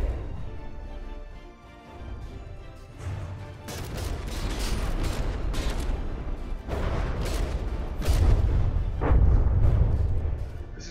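Battleship guns, including those of the Tennessee, firing in a video game naval battle, with repeated heavy booms and bursts of gunfire over a continuous rumbling din; loudest near the end.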